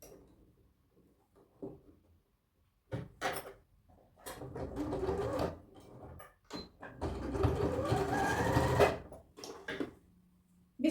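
A sewing machine stitching the collar facing of a dress, short quiet taps followed by longer, louder runs of mechanical whirring, close and alone.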